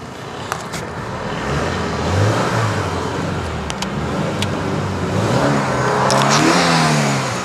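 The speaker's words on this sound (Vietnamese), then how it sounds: "máy nổ rất là êm" Daewoo Lacetti car engine revving up and settling several times, a steady mid-pitched drone that swells loudly near the end, with no talking.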